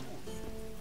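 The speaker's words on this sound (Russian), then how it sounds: "Похоже, дождь собирается." Rain begins falling in The Witcher 3: Wild Hunt, a brief, steady hiss of drops spread evenly across the surroundings.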